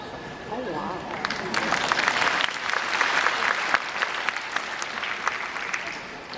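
An audience at an RCMP police dog show at Westerner Days breaks into applause that swells after a second and holds as a dense, sustained ovation, with a voice talking over the clapping.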